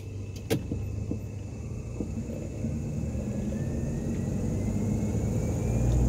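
Car driving at night with high beams on, a steady low road rumble and engine drone building gradually louder, with a brief sharp click near the start and a faint whine above.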